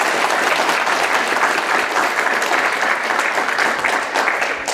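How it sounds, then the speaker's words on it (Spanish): Loud, steady applause from a crowd of parents, families and pupils at a school event in Peru, a dense wash of clapping that runs unbroken for the whole stretch. "un fuerte aplauso"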